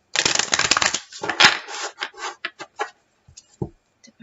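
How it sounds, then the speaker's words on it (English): A tarot card deck is shuffled close by, with a dense riffling burst at first and then a series of shorter, quieter taps and flicks as the cards settle. "Okay, do one more shuffle."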